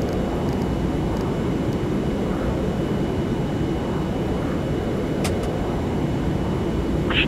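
A simulated airliner, American 400 heavy, a 787, rolls for takeoff in a flight simulator with a steady, loud engine roar that holds constant throughout, broken only by a few faint clicks.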